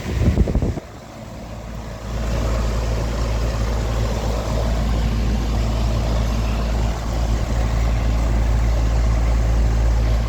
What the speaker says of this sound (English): I hear my compressor turn on